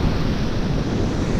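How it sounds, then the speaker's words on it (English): Rushing water from a waterfall on the Lady Evelyn River in Temagami fills the clip with a steady, dense roar that stays loud throughout, with no other sounds audible. "And here is where the waterfall starts."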